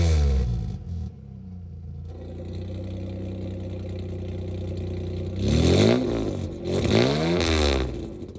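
A 3.2 V6 Daewoo Matiz with its exhaust flap closed idles with a steady, muffled drone, then revs hard twice, each rise and fall of the engine loud and close, with no talk.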